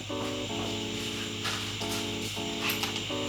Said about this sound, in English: So I'm gonna run these in real quick, nice and slow, tight.